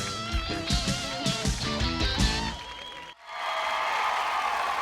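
An arena crowd at a gladiator competition show breaks into sustained applause and cheering, a broad steady roar that follows a stretch of loud music.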